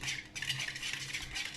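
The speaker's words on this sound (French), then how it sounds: "Et je vais mélanger ça jusqu'il fonde" Butter pieces are stirred in a pan to melt them for a lemon cake, with a spoon scraping and clinking steadily against the pan in a continuous close rhythm, and no talking.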